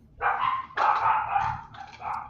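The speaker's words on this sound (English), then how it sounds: "Dogs are barking." Dogs bark in three loud, close bursts, the second longest, with nothing else alongside them.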